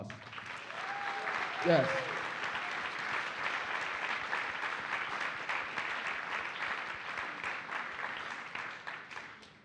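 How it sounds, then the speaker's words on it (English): A crowd at a justice gala dinner gives a sustained round of applause, even and full throughout, after a brief word from a speaker at the start. "Let's give everybody that spoke here tonight a round of applause."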